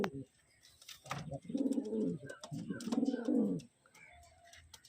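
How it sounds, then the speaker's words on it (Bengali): Andhra pigeons cooing close by, two low rolling coos with soft bird chirps and faint background noise between them. "আর দুটো পায়রা দেখাচ্ছি এটা হচ্ছে তিন নম্বর পেয়ার"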